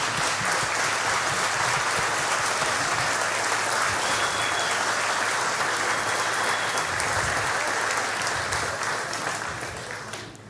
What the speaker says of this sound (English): let's give them a round of applause for attending.